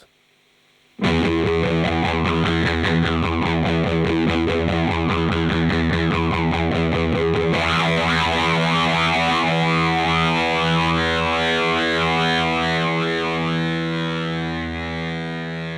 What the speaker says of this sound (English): The Harmonic fuzz circuit is also a very good place to show off the mid-frequency expression